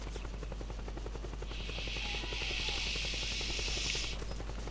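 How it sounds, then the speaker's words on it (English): A helicopter in the video game Metal Gear Solid 4 keeps up a steady, loud rotor thrum with a whining buzz above it, holding constant through the whole stretch. "I can hear a helicopter."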